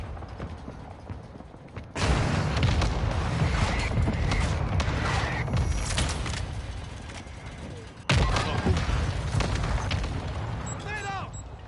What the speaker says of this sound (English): I got an airstrike on you.